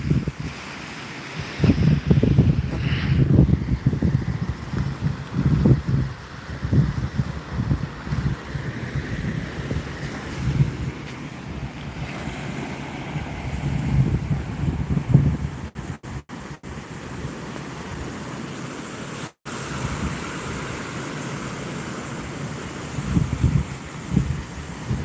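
Wind gusting across a Lake Erie beach at Port Bruce, a steady low roar with buffeting against the microphone and possible surf beneath, continuous and fairly loud with no talking.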